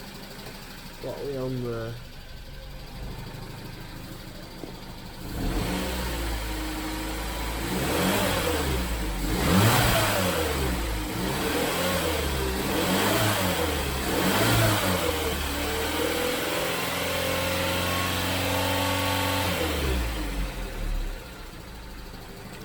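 Engine of a Vauxhall Corsa D running with a couple of iffy, ticking lifters, a steady close mechanical drone with rhythmic revving swells for most of the clip, while a person talks briefly near the start.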